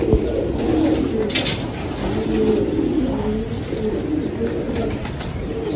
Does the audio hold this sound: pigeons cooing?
yes